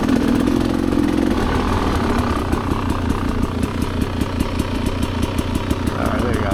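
A Rieju Ranger dirt bike with an aftermarket exhaust pipe runs close by on single-track trail, its engine giving a steady, loud throb that settles into a rapid rhythmic pulsing. A voice talks over it.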